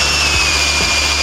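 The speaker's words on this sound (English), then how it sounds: "Let's drill out those holes and we will see what's inside." A power drill whines at a steady high pitch, close and loud, running continuously for a brief moment while drilling out holes in a VW T4 door handle.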